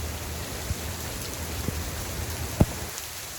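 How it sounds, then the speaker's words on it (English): Steady rain falls during an outdoor run, an even soft hiss of drops on surfaces with a few dull thumps standing out nearby, no voices. "Oh, here's that rain."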